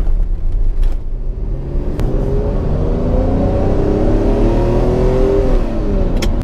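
A Ferrari Testarossa engine rumbles and rises in pitch as the car accelerates along an empty road, loud and continuous with no one talking.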